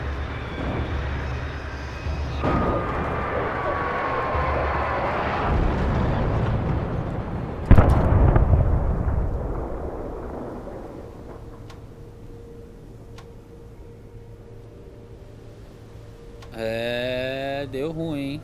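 A helicopter is shot down and explodes in the video game Alan Wake Remastered. A low rumbling roar builds, then a sharp, loud blast hits midway and fades into a quieter tail, with further sounds near the end.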